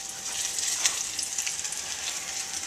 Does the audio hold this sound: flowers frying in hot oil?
yes